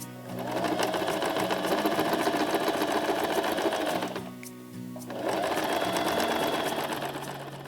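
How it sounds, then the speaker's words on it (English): A sewing machine stitches lace onto a heart-shaped pillow, running in a steady close whir that pauses briefly midway and then resumes. "we will sew on our lace for decoration."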